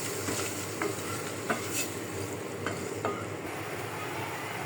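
Fish stir-frying in a spice masala in a home kitchen, with a steady close sizzle and irregular scrapes and stirring clinks of a spatula against the pan, no talk.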